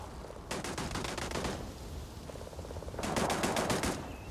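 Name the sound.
turret gunfire in the video game Starfield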